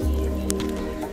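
Water soaks into a turmeric grow bag mulched with dry leaves, making a brief, close, wet squelch with a faint drip.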